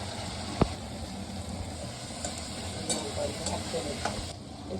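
Chopped onion sizzles in hot oil after prawns, a soft continuous frying hiss with a sharp drop-in clatter near the start and light stirring scrapes, close but fairly quiet.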